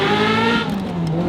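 A 1995 Ferrari sports car engine revs hard nearby, a loud rising tonal roar that shifts pitch as it pulls away, with a brief tire chirp.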